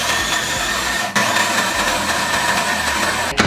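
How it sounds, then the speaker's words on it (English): A small kitchen blender whirs at high speed, grinding very dry vegetables into powder for a vegan bouillon, a loud, close, continuous motor drone with brief dips as it stops and restarts. "in the little blender and blend it on a high speed until it's gonna become basically a powder"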